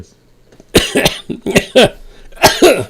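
A series of harsh, bursting coughs, about five or six in quick succession, loud and close, with short gaps between them.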